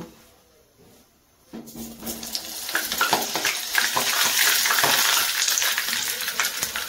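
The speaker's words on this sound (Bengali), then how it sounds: "এখন আমি ভেজে নিচ্ছি আলুগুলো।" Potatoes are dropped into hot oil in a wok. After a quiet start, a loud, dense sizzle bursts up close and holds steadily to the end.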